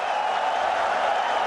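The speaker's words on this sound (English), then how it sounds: "Babar Azam gets the 50 to a loud cheer of the fans" A cricket crowd at a Pakistan vs Australia T20 match cheers and claps in a steady, broad roar that holds for the whole moment with no pauses.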